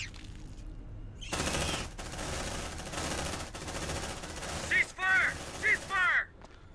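Bursts of automatic gunfire in James Cameron's Space Hulk, several loud sustained volleys broken by short pauses, with voices and shrill creature-like cries near the end.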